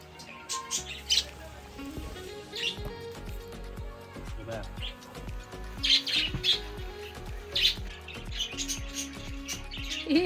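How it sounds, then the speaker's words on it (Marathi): Small birds chirp and squawk in sharp, scattered bursts close by, while voices talk quietly underneath. "इतका भारी त्यांचा चिवचिवाट चालू आहेत ना पक्ष्यांचा"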